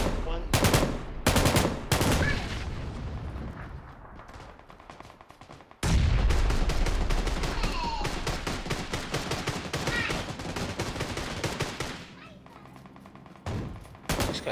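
Gunfire in the battle royale video game PUBG: rapid automatic bursts and dense volleys of shots, some loud and near, others quieter, with pauses between strings of fire.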